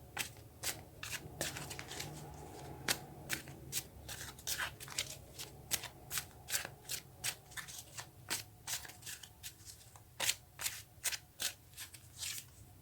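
Tarot cards get shuffled and drawn, a quiet run of rapid riffling snaps and slides in uneven bursts, close up and with no talk.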